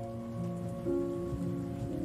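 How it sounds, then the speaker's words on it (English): Rain falls in the horror video game Remothered: Tormented Fathers, a soft steady patter heard under low sustained ambient game tones, with no voices. "Now it's raining now."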